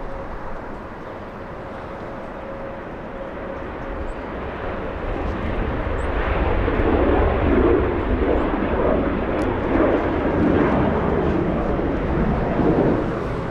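An airliner taking off on runway 24 Left at LAX, a broad jet roar that builds from a moderate rumble into a louder, sustained thunder and holds near its peak, no voices.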